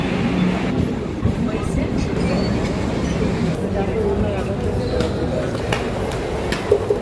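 A Mumbai suburban train rumbles through a station in a low, continuous roar with faint rhythmic clatter and occasional metallic clicks, while people talk nearby over the noise.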